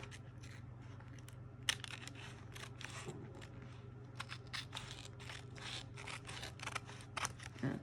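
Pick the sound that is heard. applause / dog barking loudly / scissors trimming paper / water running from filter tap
scissors trimming paper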